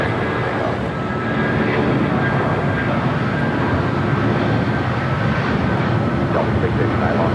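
A United Boeing 757-300 airliner rolling down runway 25 right at Los Angeles airport, a steady broad engine roar held loud throughout.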